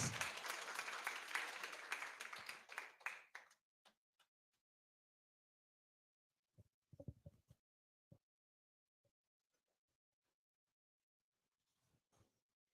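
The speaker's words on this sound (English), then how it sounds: "A round of applause." Audience applause for cosplayers and historical reenactors at a Cebu Revolution commemoration event, a dense burst of clapping for about three seconds that quickly thins to a few scattered claps and then isolated faint taps in near silence.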